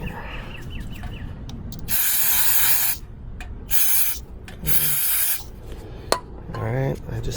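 Carbon choke cleaner sprayed onto Honda Grom motorcycle parts in bursts: three loud hissing sprays of about a second each, with quieter handling noise between them.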